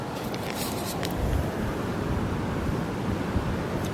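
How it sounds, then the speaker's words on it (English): Strong wind outside a Cambridge home, with steady loud roaring and buffeting gusts that continue without break and no voices. "Listen to the wind out there."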